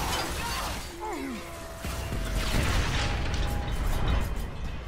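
Gunfire and booming blasts come from the first-person shooter Bulletstorm, dense and loud, with whooshing effects and layered explosive impacts running throughout.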